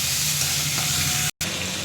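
Shrimp hit a hot frying pan with a loud, continuous sizzle that holds across the short moment, alone without talk, broken by a very brief gap near the end.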